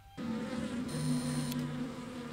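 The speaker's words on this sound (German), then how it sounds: "Ah, die Bienen selbst sind gar nicht okay." Bees buzz steadily in Zelda: Tears of the Kingdom, a close, continuous insect drone with a low hum that swells slightly partway through, heard alone without any talk.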